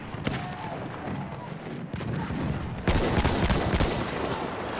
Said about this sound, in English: Take cover, artillery!